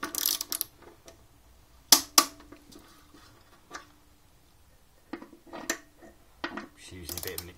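A ratchet with an extension bar tightening bolts on a Triumph Bonneville motorcycle near the fuel tank, heard close up as sparse clicks and sharp metallic knocks separated by quiet gaps, with a faster ratcheting burst at the end.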